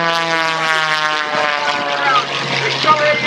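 An aerobatic propeller airplane at an air show in northern Michigan accelerates past, a loud steady engine drone with rising harmonic whine that shifts in pitch as it passes, with a voice talking over it.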